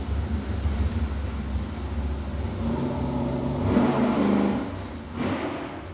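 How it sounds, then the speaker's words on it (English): A performance engine fitted with lightweight rotating components roars through a dyno pull at 300 RPM per second, a loud, steady, rising drone filling the room before easing off near the end. "we're gonna go for the base 300 RPM per second pull."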